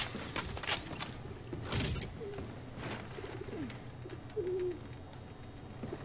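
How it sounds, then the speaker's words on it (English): Pigeons coo in soft, low bursts against a busy ambient backdrop in Call of Duty: Infinite Warfare, several short calls spread across the stretch with faint creaks and mechanical hums beneath. "I hear pigeons."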